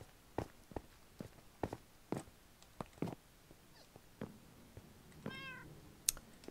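A Minecraft cat meows a few times, sharp and clear, among a series of light, evenly spaced footstep taps in the game.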